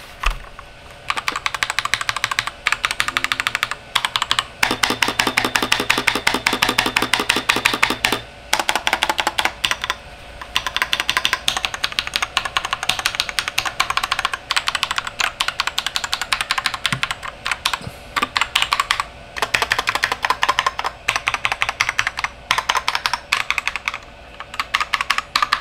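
Someone types steadily on a Lychee GK98 mechanical keyboard, a dense, close, continuous clatter of keystrokes with brief pauses and no talking.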